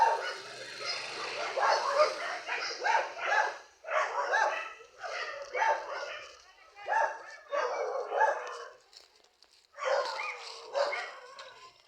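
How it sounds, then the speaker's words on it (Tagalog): A dog barks repeatedly in a steady rhythm, about one bark every second or so, moderately close and fairly clear. "Kukuhanin lang po namin yung aso ni Mami Ros"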